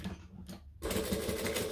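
A sewing machine stitching a fabric bag starts up partway through with a quick, even mechanical whirr that runs steadily and close to the end.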